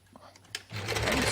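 Sewing machine stitching a paper-pieced quilt block, starting after a few clicks and settling into a fast, close, continuous whir.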